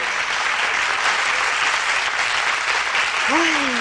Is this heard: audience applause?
yes